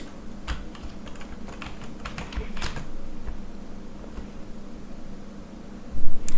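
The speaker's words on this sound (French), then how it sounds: "Je sais pas si vous entendez le bruit de mon clavier." Computer keyboard keys clack in quick irregular bursts during video game play, close and crisp over a steady background hum, with a louder clatter near the end.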